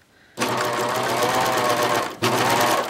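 A serger stitches a 1-inch Hong Kong seam in fabric with a close, rapid mechanical whir, pausing briefly before starting again.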